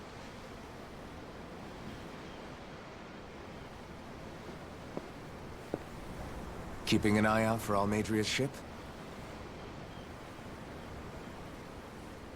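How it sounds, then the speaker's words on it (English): Ocean waves in Tales of Arise make a steady, hissing wash of surf that runs throughout, with a short line of spoken dialogue over the middle. "I'm looking at the ocean."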